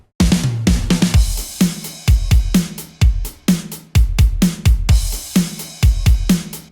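Acoustic drum fills play within a full progressive house mix, punchy repeated hits and rolls over a dense, continuous backing, loud and steady throughout, without speech.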